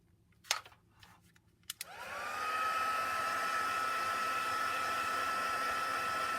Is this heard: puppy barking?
no